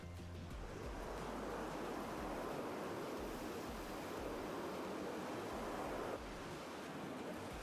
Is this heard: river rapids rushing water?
yes